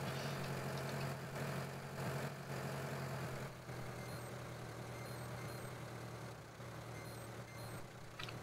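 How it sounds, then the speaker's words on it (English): A tractor engine runs steadily in Farming Simulator 2013 as it drives along, a continuous low hum with faint higher beeps and no talk. "can't you see this tractor coming through?"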